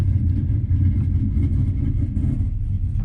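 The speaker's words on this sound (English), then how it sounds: "So now that's opening my exhaust cutout, and this is closing my exhaust cutout." A RAM truck engine idles with its exhaust cutout opened, giving a loud, deep, close rumble that holds steady with slight throbbing and no talking.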